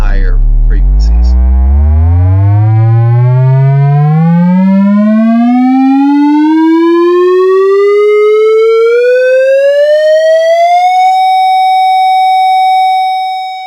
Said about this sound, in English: let's go up now and listen to it as we increase the frequency to higher and higher frequencies.